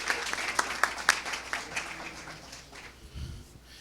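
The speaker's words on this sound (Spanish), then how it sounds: "Un aplauso para él." Audience applause for a speaker at an academic event honoring Enerio Rodríguez starts fairly full with crisp claps, then thins and fades away, leaving faint room noise and a low rumble of movement at the end.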